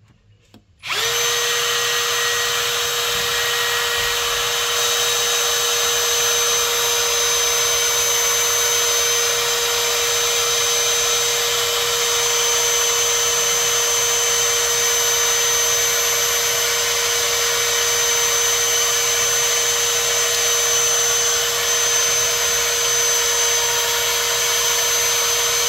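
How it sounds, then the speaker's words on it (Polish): A small electric drill spins a V8 engine being assembled, starting abruptly and then running as a steady, continuous high whine with a constant pitch for about twenty-five seconds, close and loud. "I kręcimy w miarę prosto wiertareczka"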